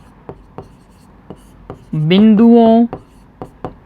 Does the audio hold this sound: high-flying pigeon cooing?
no